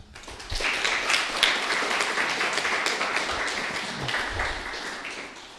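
Applause from an audience at a datathon finals ceremony for the winners, moderately loud clapping that swells quickly, holds steady for several seconds and begins to thin toward the end.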